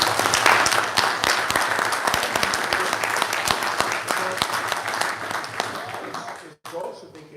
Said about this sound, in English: I prefer if they didn't clap, okay?